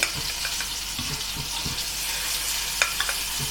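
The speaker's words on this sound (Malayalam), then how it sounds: "മീഡിയം ഫ്ലെയിമിൽ ഇട്ടിട്ട് വേണം നമ്മൾ പനീർ ഇട്ട് കൊടുക്കാനായിട്ട്" Paneer pieces fry in a pan on medium flame for paneer tikka masala, a steady close sizzle with a few soft taps as pieces are placed, no voices.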